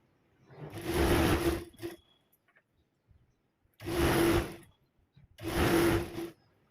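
A sewing machine stitches a seam on a kurti in three separate loud bursts of rapid whirring, each a second or so long, with quiet pauses between them.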